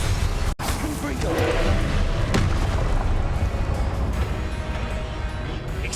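A booming explosive spell blast in the Hogwarts Legacy game, one sharp crack followed by a loud dense roar that holds steady for several seconds, with talk over it.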